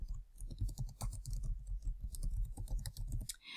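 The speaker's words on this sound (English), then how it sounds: "I'm going to type in Claire's information" Fast, close typing on a computer keyboard, a dense run of crisp key clicks with brief pauses near the end.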